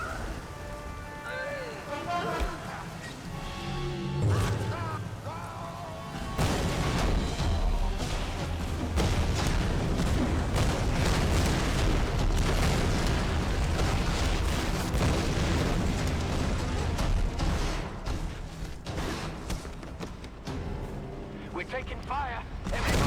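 In the video game Tomb Raider Definitive Edition, explosions and a rumbling battle din build into a dense, loud wash of booms and crackling debris, with voices talking over much of it.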